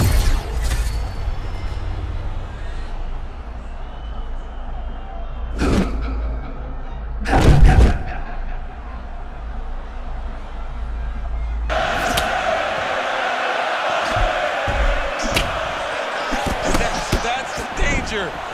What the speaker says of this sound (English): nice strike by McGregor there